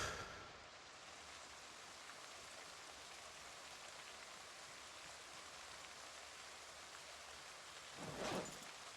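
Gentle drizzle in Project Zomboid, a steady soft patter of rain on surfaces with a brief louder gust or rumble near the end, no talking.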